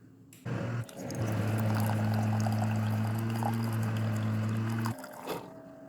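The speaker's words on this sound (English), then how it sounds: "it's going to heat up the vinegar, and it's going to put the vinegar solution through, and it's going to come out in your mug here." A Keurig K-Duo coffee maker pumps heated vinegar descaling solution into a mug, a steady pouring and gurgling stream with a low machine hum that runs for several seconds before cutting off.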